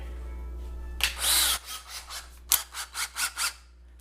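Power drill starting a hole in a hard surface: faint, close grinding and scraping in short, uneven bursts over a low background hum, with no talking.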